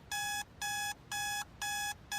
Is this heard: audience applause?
no